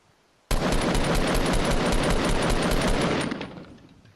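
Sustained automatic gunfire from a shooter video game bursts in suddenly and rattles on in a dense, rapid stream for several seconds, loud and close, before trailing off at the end.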